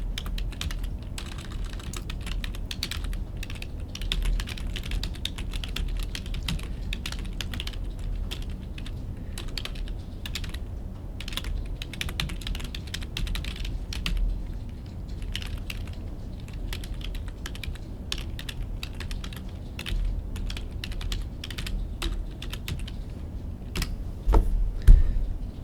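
Steady, rapid clicking of a computer keyboard as someone types continuously for a long stretch, close and fairly quiet, with no voices.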